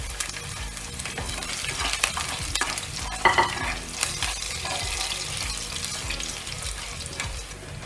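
Ginger and garlic sizzle in hot oil in a pan while being stirred, a steady crackling fry with scraping strokes and a few clinks of a utensil close by.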